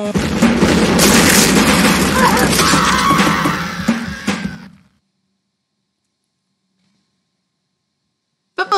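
A football bomb blows up in the Happy Wheels video game, a loud, dense blast roaring steadily for about four seconds before cutting off into silence, with a short burst of sound returning at the very end.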